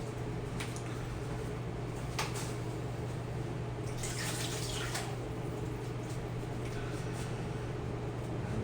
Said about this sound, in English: we're going to add a couple cups of water